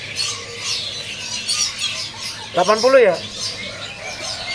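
Caged birds at a bird seller's kiosk keep up a busy, thin chatter of squawks in the background while someone speaks briefly over them, his voice rising above the birds.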